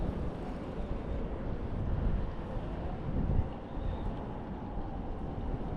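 Wind buffeting a microphone outdoors during trout fishing, a steady low rumbling roar with gusty swells, loudest around the middle, no voices.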